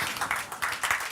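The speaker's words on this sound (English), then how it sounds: "A big applause for those guys." A short burst of audience applause at a conference on innovation for resilience and inclusive development, a brief patter of clapping from a crowd.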